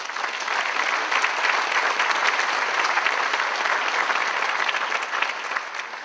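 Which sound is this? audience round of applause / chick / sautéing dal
audience round of applause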